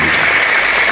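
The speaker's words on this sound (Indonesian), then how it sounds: "tepuk tangan." An audience at an evening religious gathering claps in a dense, loud burst of applause filling the whole short moment.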